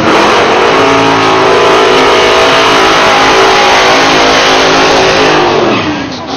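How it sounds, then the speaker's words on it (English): A 1937 Chevy gasser with a 427-cubic-inch big-block engine roars loud and close as it launches and revs hard up a drag strip at a Southeast Gassers event, a sustained, harmonic-rich engine blast that eases off at the very end. "It's a 37 Chevy. Big block under the hood, 427 inches, and he's gonna bang it up the line."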